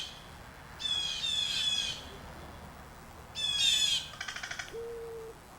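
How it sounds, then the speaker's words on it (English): A crow calls outdoors in two loud bursts of harsh squawking, the second followed by a quick run of dry clicking notes, over a quiet background. "That was a crow. That little click, click, click, click, click."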